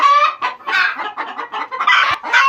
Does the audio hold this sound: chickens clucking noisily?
yes